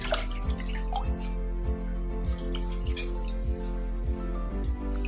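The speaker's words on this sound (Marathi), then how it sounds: "आपण दुसऱ्यांदा ही भाजी परत एकदा यामध्ये धुवून घेतोय" Spinach rinsed in a colander for a salad, with water dripping in a steady rhythm of close, distinct drops and splashes over a faint background hum, and no talking.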